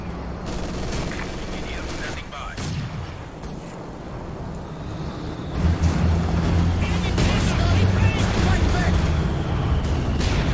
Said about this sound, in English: Mortar still shooting from both sides